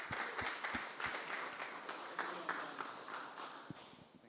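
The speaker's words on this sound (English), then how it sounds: "a round of applause" A conference audience gives a round of applause, with scattered claps settling into a soft, steady patter that sounds distant and faint.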